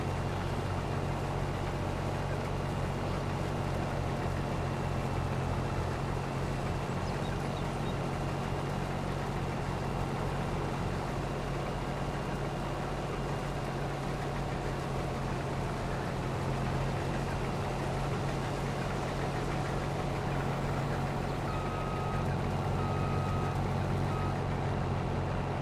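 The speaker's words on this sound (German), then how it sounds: "da werde ich das Schneidwerk dann dran lassen und einmal schnell über die Straße einfach von da nach da fahren" A combine harvester with its header attached drives across a road near Starsow by Mirow, a loud continuous low engine drone running steadily throughout with no talk.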